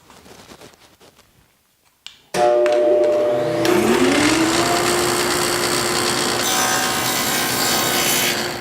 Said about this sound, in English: I've set up the dado stack, I've set the fence, I've adjusted the height on a scrap piece, and now I'm just going to hog out that waste.